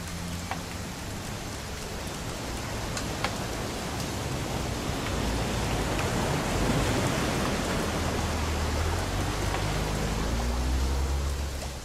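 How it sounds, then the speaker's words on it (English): Heavy rain pours in What Remains of Edith Finch, a thick broadband wash that swells slightly midway, with faint low rumbling underneath and no voices. "It's gonna rain the whole weekend, isn't it?"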